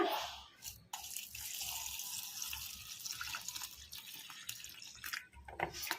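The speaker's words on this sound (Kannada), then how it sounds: "ಈಗ ಇದಕ್ಕೆ ಇನ್ನು ಸ್ವಲ್ಪ ತಣ್ಣೀರು ಹಾಕ್ಬಿಡೋಣ." Cold water pours steadily from a tap onto boiled soya chunks in a kitchen, a continuous close splashing rush with a few brief breaks and no talk.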